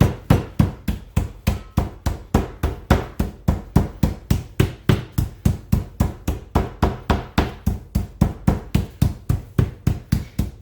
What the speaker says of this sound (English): if you have a meat hammer, this would be a time to get it out and do this with